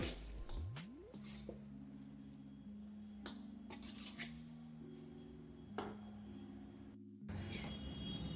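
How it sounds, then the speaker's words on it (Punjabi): Chopped vegetables for Manchurian, wrapped in thin cloth, are squeezed by hand over a bowl to press out their water, giving soft wet squishes and drips under steady background music. "ਆਪਾਂ ਜਿਹੜਾ ਪਾਣੀ ਆ ਇਹਨਾਂ ਦਾ ਇਸ ਤਰ੍ਹਾਂ ਨਿਚੋੜ ਦਵਾਂਗੇ"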